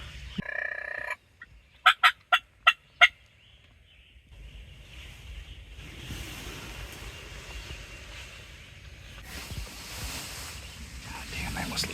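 A wild turkey gobbles in a quick burst of about five loud calls during a Tennessee spring hunt, followed by quieter outdoor ambience with rustling and faint movement.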